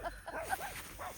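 A border collie gives a few quick, faint barks in brief bursts outdoors, short and somewhat distant.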